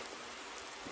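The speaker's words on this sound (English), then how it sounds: "It's raining, so not a lot that I'm able to do at the moment" Steady rain hisses evenly in the Farming Simulator 19 game, a dense constant patter with no voices over it.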